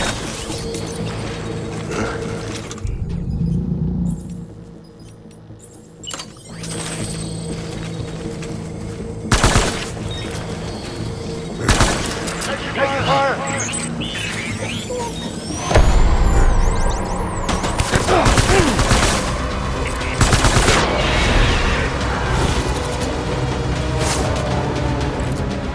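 Bursts of gunfire in the Death Stranding video game, sharp cracks and volleys breaking out repeatedly over a steady low in-game ambience and mechanical hum across the stretch.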